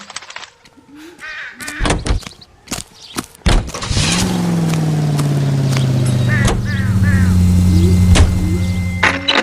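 A car in the video game L.A. Noire starts up after door thuds and clunks, then its engine settles into a steady, loud, close hum with small pitch shifts as it drives.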